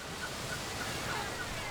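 Gulls on Appledore island call in short, faint cries repeated several times over a steady wash of wind and surf, distant and without voices.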